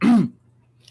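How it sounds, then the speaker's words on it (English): A single short, close throat clearing, a gruff rasp lasting a fraction of a second, followed by near silence. "do you repeatedly clear your throat?"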